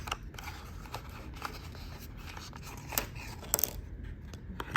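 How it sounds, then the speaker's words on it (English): A Restorline fly-line repair kit box being opened by hand, with faint, sparse cardboard clicks, scrapes and light rustles in a quiet room. "so when you open up this box"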